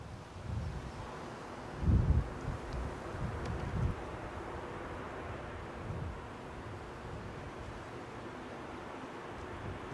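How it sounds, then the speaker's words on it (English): Wind gusting across the airfield at windy Newcastle airport, a low blustery rumble of microphone buffeting with a stronger gust around two seconds, continuous and fairly faint throughout. "You can tell there's a bit of a crosswind on the airfield at the moment"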